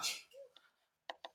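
A short, sharp sneeze up close, followed by a couple of quiet vocal sounds and two brief clicks.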